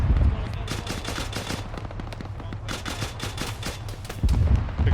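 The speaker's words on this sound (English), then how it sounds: "Taking shots." Rapid bursts of automatic gunfire crackle through a military realism video game, loud and dense, with several overlapping volleys across the scene.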